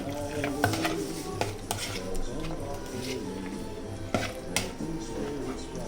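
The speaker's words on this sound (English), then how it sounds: "So now we will mix this and keep it aside until we do the rest of the things. Mix it nicely." A spoon mixes a honey mixture in a bowl for plum pudding, making scattered clinks and scraping taps against the bowl over a faint tonal background, close and fairly quiet, with no talking.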